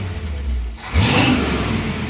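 A 1955 Chevy engine with a new exhaust revs up loudly and close by, rising from a deep idle rumble into a strong, raspy roar that holds steady.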